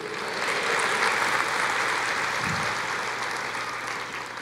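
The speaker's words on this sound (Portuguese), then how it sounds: "Aplauda o Senhor" A church congregation applauds the Lord during a sermon, a broad, continuous wash of many hands clapping together, loud and steady throughout.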